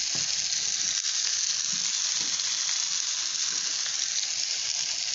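Raw banana slices fry in oil in a pan, giving a steady, dense sizzle that holds evenly throughout, close and fairly loud, with no talking.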